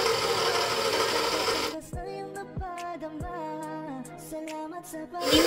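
An electric hand mixer slowly mixes red velvet pandesal bread dough. Its dense motor whir runs steadily for under two seconds, then stops and gives way to clinking tonal sounds.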